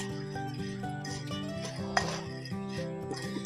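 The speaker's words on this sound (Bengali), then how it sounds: "এবার ভালো করে একসঙ্গে মিশিয়ে নিচ্ছি।" Raw chickpeas being stirred with chaat masala and Kashmiri red chilli powder in a bowl, a steady close scraping and clinking of a spoon against the dish with one sharper knock partway through.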